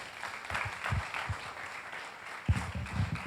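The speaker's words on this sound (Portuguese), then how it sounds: "vamos aplaudir" A church congregation at a Portuguese-language evangelism gathering claps briefly, soft and somewhat distant. Low thumps sound under the clapping, and a few louder claps land near the end.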